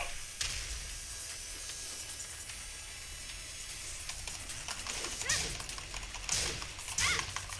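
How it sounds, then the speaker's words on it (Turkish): Computer keyboard keys are pressed while playing the fighting game Tekken 7: a few faint, sharp clicks and taps come late, over a low hiss of game and room noise. "Klavye üzerinden oynuyorum oyunu."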